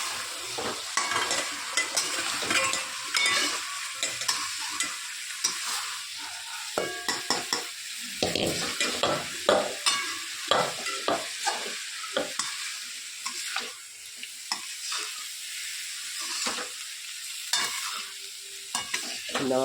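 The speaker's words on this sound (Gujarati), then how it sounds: "સરસ મિક્સ કરી લઈએ." Poha is stirred in a hot pan, giving a rhythmic run of scraping, clinking spoon strokes over a soft steady sizzle, close and without talk.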